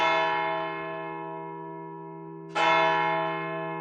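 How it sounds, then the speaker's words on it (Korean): A large bell tolls with two heavy, resonant strikes about two and a half seconds apart, each leaving a long humming ring that slowly fades, with no voices. "종소리가 3번 울렸습니다."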